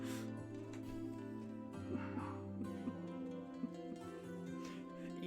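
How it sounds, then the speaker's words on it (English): Dogs bark and yip in the visual novel game Hakuoki: Kyoto Winds, several short sharp barks rising over a steady, sustained musical backdrop. "Suddenly dogs."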